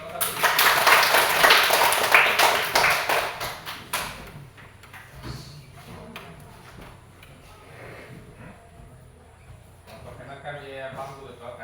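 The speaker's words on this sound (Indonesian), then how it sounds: "Tepuk tangan untuk kelompok 1." A classroom of students claps for group 1, a dense burst of applause lasting about four seconds before fading into quieter room noise and talk.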